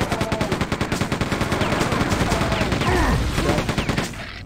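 Rapid automatic gunfire in the Quake 64 remaster, a fast regular stream of loud shots, then a brief pause and another burst, with game effects behind.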